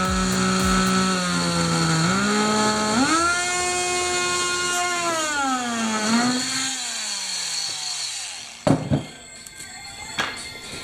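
A power saw whines steadily as it cuts wood, its pitch rising and dipping under load, then stops, followed by a few clunks and knocks.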